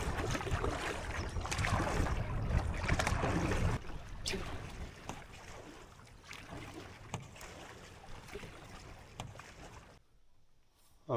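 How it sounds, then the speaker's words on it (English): Steady headwind roars across a lake in Algonquin, with broadband gusting noise and occasional splashes or knocks, dropping to near quiet at the very end. "The headwind that we were expecting is making it across the lake."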